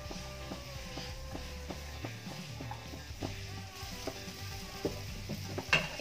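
Vermicelli upma (semiya) cooking in a pan at breakfast time: a soft, steady frying sizzle with scraping stirring sounds throughout, quiet and continuous, with a faint tonal background.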